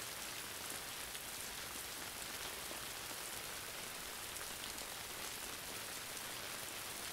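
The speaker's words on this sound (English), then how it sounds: "The light shower that rains down on you" A light rain shower patters down in a constant dense hiss of drops, quiet but steady from start to end, with no talking.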